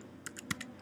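A PowerShell command is typed on a computer keyboard, about four quick, light key clicks in an even run, close and fairly quiet.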